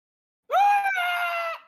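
A screaming chicken sound effect: one loud, strained squawking wail that rises sharply, holds for about a second with a brief wobble, then cuts off, heard alone without talk.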